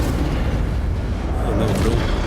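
A deep booming fire burst from an Incendio spell in the Hogwarts Legacy game, loud and close, with a rumbling blast that swells and tails off.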